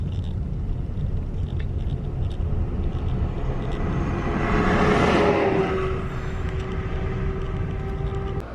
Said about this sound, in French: Je me tasse sur le côté pour laisser passer un camion qui s'en vient